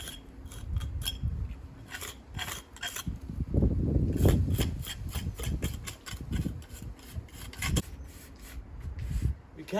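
Scraping and rasping as clumpy lime mortar made with ginger sand is rubbed down on an old stone wall. Short gritty strokes repeat at an uneven pace, close by, with a voice talking over them at times.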